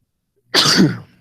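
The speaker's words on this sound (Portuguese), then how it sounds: "Perdão, eu fui espirrar de novo." A single sharp sneeze bursts out after a moment of silence, loud and close, then trails off quickly.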